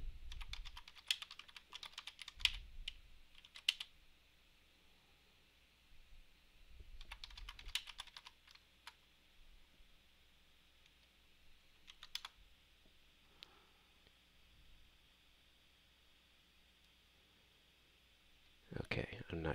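Bursts of typing on a computer keyboard, quick clustered keystrokes separated by quiet gaps, close and fairly faint, with a short louder burst at the end.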